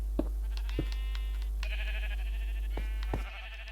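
Sheep bleating in the Minecraft video game, several short, wavering calls in close succession, fairly clear and alone over a steady low game hum, with a couple of clicks spaced through the stretch.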